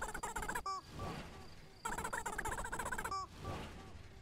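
Chicken clucking from the farm-sim game Barn Finders: two bursts of busy, close clucks and squawks with a broad, raspy texture, each followed by a softer rustling stretch, no talking.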